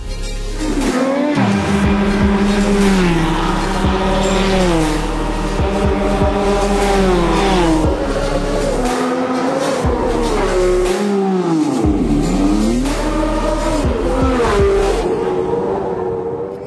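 A race car on a track with freshly mounted ply tyres revs hard and loud for a sustained stretch, engine pitch rising and falling through gear changes and corners, with brief dips where it backs off.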